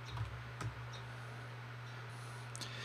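Typing on a computer keyboard at a Windows 11 desk, a few faint, sparse key clicks over a steady low electrical hum, quiet and close.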